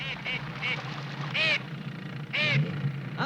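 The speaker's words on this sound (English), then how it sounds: "A steamer duck too heavy to fly paddles to hiding." A flightless steamer duck on a desolate, overgrown southern island gives several nasal quacks: short clipped calls early, then two loud drawn-out honking quacks close by, over a low background hum.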